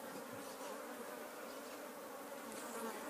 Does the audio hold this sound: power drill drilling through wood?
no